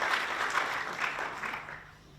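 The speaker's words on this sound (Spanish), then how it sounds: "Así que un aplauso enorme para todas." Applause from a keynote audience at an open source conference, a dense patter of clapping that holds steady and then fades out near the end.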